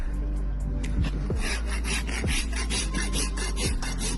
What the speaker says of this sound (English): that's where I come around with a rasp and just tidy everything up.